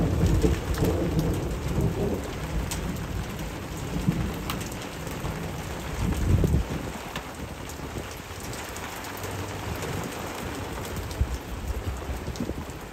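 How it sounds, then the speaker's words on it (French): Heavy rain pounds down in a thunderstorm with gusting wind and falling hail, a dense steady roar broken by loud rumbling thunder claps near the start and middle, with no voices. "des rafales de vent, de la forte pluie et des chutes de grêle commencent à arriver jusqu'ici"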